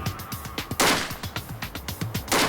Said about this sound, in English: Jamie begins unloading rapid fire